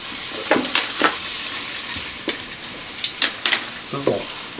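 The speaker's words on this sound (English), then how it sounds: "Since it's nice and hot, you can hear the sizzle." Ground beef sizzles loudly in a hot pot while a utensil stirs and scrapes it in short bursts.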